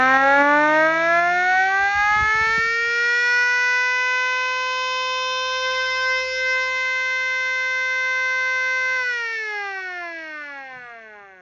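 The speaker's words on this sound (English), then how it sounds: "These sirens in particular sound a little something like this." A loud wailing warning siren on an M5A1 Stuart tank rises in pitch, holds a long steady tone for several seconds, then winds down and fades at the end.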